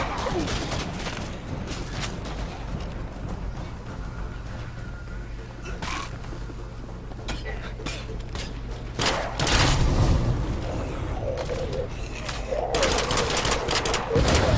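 Bursts of gunfire in the zombie survival game State of Decay 2 come through under a constant loud rumble of game sound, growing denser and heavier in the second half, with a player talking over it.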